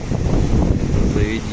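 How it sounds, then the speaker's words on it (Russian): Very strong, cold night wind in Gelendzhik roars steadily into the microphone, a loud continuous buffeting rush that never lets up across the whole stretch. "Очень сильный ветер."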